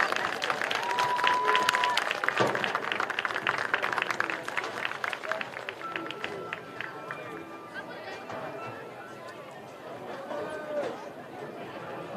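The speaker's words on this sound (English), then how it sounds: "Let's give all these young ladies and gentlemen a big round of applause." A crowd at a high school football game in West Virginia applauds the winners, a dense burst of clapping and cheering that gradually thins into scattered chatter, with a voice talking over the crowd.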